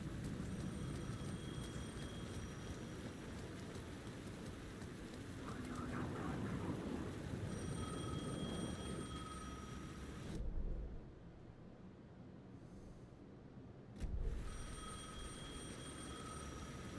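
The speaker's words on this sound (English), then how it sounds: "The phone was ringing again." Telephone ringing inside the Alan Wake 2 video game, heard as steady repeated high bell tones over a dense rain-like ambience, pausing briefly before the ringing resumes.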